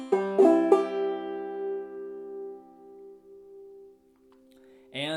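Clawhammer banjo plucks a few quick notes, including a drop-thumb melody note on the second string, then lets them ring out and slowly decay before another note sounds near the end; close and clear, no voices.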